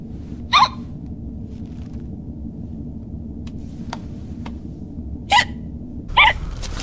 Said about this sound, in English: Sounds almost like hiccups.